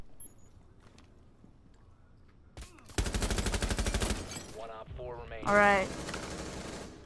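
Bursts of rapid gunfire in Rainbow Six Siege, a loud sustained volley of about a second followed by scattered shots and a brief spoken word, with a sharp tonal effect rising near the end.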